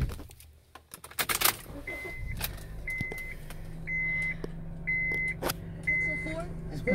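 A 2010 Honda CR-V is started up. Keys jangle, then a chime beeps repeatedly as the engine turns over and settles into a low steady idle nearby, with a voice speaking.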